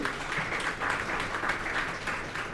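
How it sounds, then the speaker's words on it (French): A crowd applauding in a dense, steady wash of clapping that holds evenly throughout, moderately loud, with no one speaking. "nous applaudissons cette collaboration"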